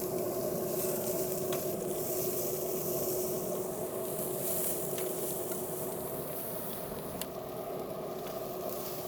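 Food sizzling on a Kamado grill loaded with a stacker kit as the pieces are turned over, a soft, steady sizzle with a few faint clicks and scrapes from the flipping.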